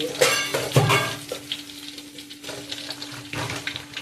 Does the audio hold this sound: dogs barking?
no